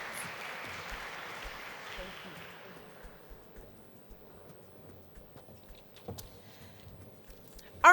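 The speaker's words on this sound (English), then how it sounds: "Let's applaud her." Audience applause at the opening session of an expo, loud and dense at first, then fading out over about three seconds into quiet room noise with a few scattered claps.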